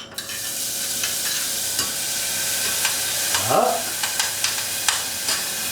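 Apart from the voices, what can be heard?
shallots frying in duck fat in a small saucepan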